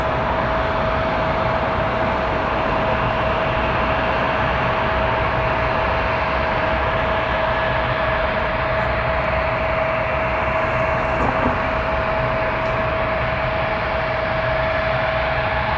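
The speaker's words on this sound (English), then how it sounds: "Few heavies taxiing over as well." Heavy jets taxiing at night at Toronto Pearson Airport near runway 23, a steady loud broadband engine roar with a constant tonal whine, unbroken throughout.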